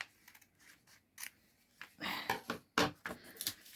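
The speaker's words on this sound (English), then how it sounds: "I'm going to hold these two together, and I'm going to cut them out." Scissors snip through paper and layers held together while making a bubble wrap journal, a series of close, crisp cuts that grow louder and denser toward the end, with no talking.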